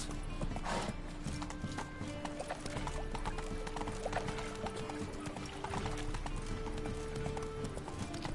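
A horse trots in The Witcher 3 video game, its hooves clip-clopping in a steady rhythm over game ambience and music, with a brief whinny; no clear talk.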